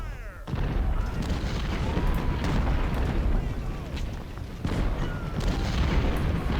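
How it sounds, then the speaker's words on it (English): Rolling artillery booms and gunfire from a Civil War battle in a strategy game set at Port Republic, a dense continuous rumble with repeated heavy thuds spread across the clip. "Enemy artillery fire is starting to take a toll on us."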